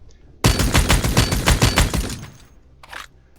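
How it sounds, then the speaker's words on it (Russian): DMR rifle fire in the Badlanders shooter game: a rapid string of about ten sharp, loud shots in quick rhythm, followed by a fading tail and one fainter burst near the end, with no talking. "Это я стреляю, ребята, с X8"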